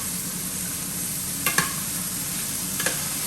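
About a pound and a quarter of pork browning in a pan for pork pasilla, with a steady close sizzle and a couple of brief stirring scrapes partway through.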